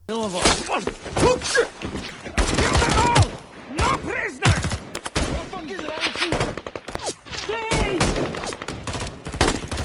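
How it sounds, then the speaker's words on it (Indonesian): Bursts of gunfire crack repeatedly amid a dramatic, cinematic film soundtrack, mixed with voices, groans and impacts in a chaotic action scene. "Suara tembakan itu terdengar oleh Baker"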